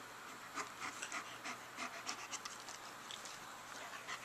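A pug pants quickly and rhythmically close by, with soft, breathy bursts and some faint scratching under a quiet background.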